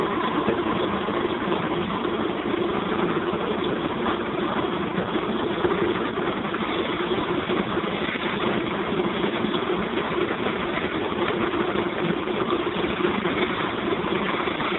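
An AC motor drives a coil generator on a test bench with a steady, even mechanical hum and whir. It runs continuously at a constant level, close by and with no pauses.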